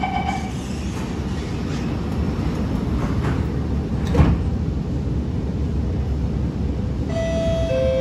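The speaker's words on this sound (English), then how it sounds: "doors are closing." The doors of an SMRT R151 metro train close while it stands at a station in Singapore. A constant low rumble of the carriage runs throughout, a short clunk comes midway, and a soft chime follows near the end, with nobody talking.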